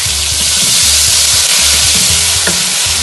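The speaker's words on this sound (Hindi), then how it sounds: "अब इसमें अदरक लहसुन का पेस्ट डालूंगी। थोड़ा सा भूनूंगी" Ginger garlic paste and tomatoes fry in a pan with a loud, steady sizzle and hiss, a brief clink of stirring, and no voices over it.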